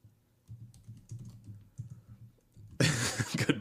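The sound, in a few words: typing on a computer keyboard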